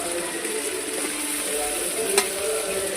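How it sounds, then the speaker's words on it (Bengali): Chicken pieces for a Bengali chicken curry sautéed in oil in a pan, a steady close sizzle with occasional scraping stirs of a spatula and one sharp clink. "আমার ভালো করে মাংসটা কষে নেবো"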